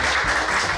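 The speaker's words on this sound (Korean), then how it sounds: "박수로 환영해 주세요." A live audience claps to welcome a Baemin (Baedal Minjok) marketer onto a Korean talk stage, a dense, steady applause that holds at even loudness through the short moment with no voices.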